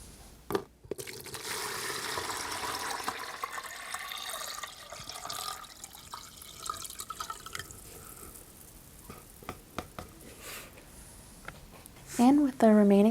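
Water is poured into a hand-molding mixture, making a soft, continuous hissing trickle for several seconds, then a few small drips and splashes, with a gentle soft-spoken voice nearby.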